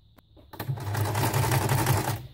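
A sewing machine runs a straight stitch on a fabric-covered notebook, a faint click first, then a short, continuous burst of fast, close needle chatter lasting under two seconds.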